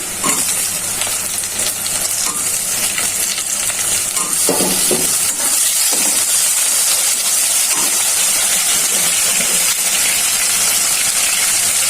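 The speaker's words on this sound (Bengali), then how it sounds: "এখানে চিংড়ি মাছগুলো দিয়ে দিচ্ছি।" Raw bagda prawns drop into hot oil with lightly fried chopped onion and sizzle loudly, a dense steady hiss and crackle that fills the whole stretch alone, with brief spatters and stirring scrapes partway through.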